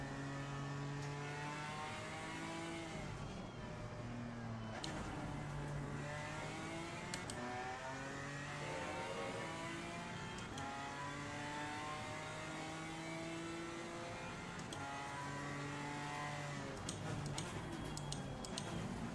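BMW M3 GT4 race car engine in Assetto Corsa Competizione, droning steadily with rising and falling revs and repeated gear-change pitch steps throughout, loud and continuous with no talk.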